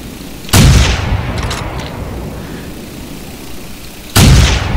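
Two loud, booming rifle shots in the hunting game theHunter: Primal, about four seconds apart, each with a long rumbling echo over faint outdoor ambience.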